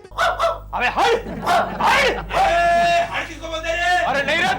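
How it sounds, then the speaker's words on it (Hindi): Street dogs bark and yip repeatedly, mixed with excited talking voices, loud and close. "अब गली के सारे कुत्ते भौंकने लगे हैं।"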